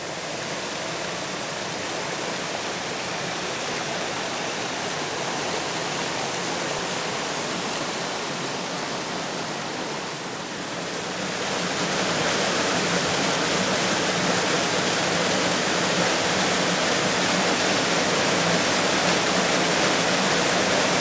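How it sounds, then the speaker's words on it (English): The River Calder rushes through a deep rocky gorge, a loud, continuous, near roar of fast water that grows slightly fuller halfway through, with no voices. "From being an open moorland river, it flows into a deep gorge,"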